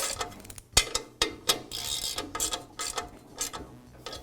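Clicky metallic ratcheting and tool clatter as bolts are driven in to secure the belt cover on an MK Diamond tile saw, with sharp irregular clicks and short bursts at close range, no speech.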